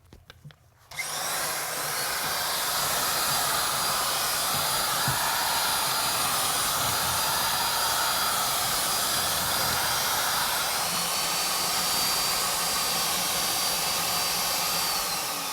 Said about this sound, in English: Now he's putting the second bag in, and then we'll mix that for a total of 3 minutes